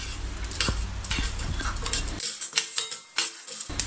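Urad dal is stirred and roasted in oil in a pan, with repeated scraping clinks of a metal spoon against the pan and a soft sizzle between strokes.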